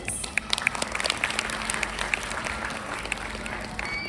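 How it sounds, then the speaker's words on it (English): An audience claps at a school annual function, a moderate ripple of scattered, uneven applause with a few sharper claps standing out, fairly distant and continuous. "Huge round of applause for yourselves"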